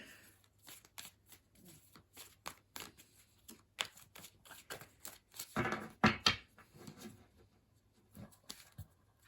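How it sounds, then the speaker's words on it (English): Tarot cards are shuffled close up in quick bursts of riffling and flicking, with a longer, louder riffle partway through and quiet gaps between. "Give it one more good shuffle here."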